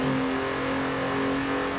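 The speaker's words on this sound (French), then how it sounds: "son moteur est à lui seul un leitmotiv à l'achat" A Volkswagen Golf 3 with a VR6 engine in Forza Horizon 4 gives a steady, droning engine note that holds at an even pitch, loud and close, with no talk.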